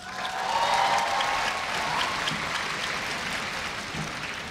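An audience at a Korea University entrance ceremony applauds steadily, the clapping swelling early and then holding at an even level until the end.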